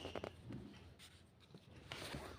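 A pen writes on paper during a Class 4 English lesson, giving quiet, scratchy strokes in short separate bursts with pauses between them and no talk.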